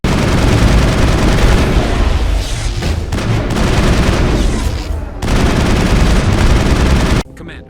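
Heavy video game firefight against Geth, with loud, sustained gunfire and booming blasts packed together for several seconds before cutting off abruptly.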